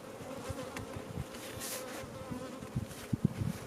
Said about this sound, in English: There is a craptastic amount of bees right here.